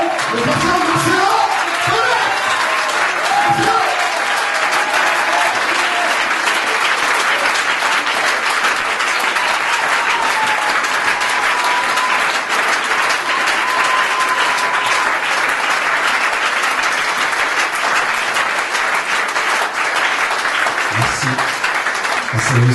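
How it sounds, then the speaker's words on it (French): A church congregation in Paris claps and cheers to welcome pastor Marcello Tunasi, a dense, loud, continuous wave of applause with occasional whoops and voices lasting over twenty seconds. "avec vos acclamations, nous allons recevoir l'homme de Dieu, le pasteur Marcelo"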